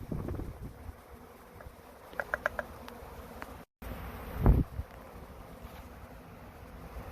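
Steady droning buzz of many honeybees at a hive, close and continuous, with a few brief clinks and a soft thump partway through.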